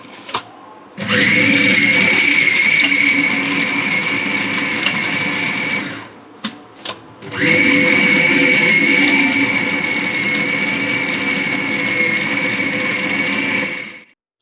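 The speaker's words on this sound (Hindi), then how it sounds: "इसको मैंने सारा सामान डाल के मैंने चॉपर में पीस लिया है।" An electric chopper grinds chicken with salt, chillies and spices for degi koftas, running in a loud, steady whir for several seconds, stopping briefly with a few short pulses, then whirring steadily again until it cuts off.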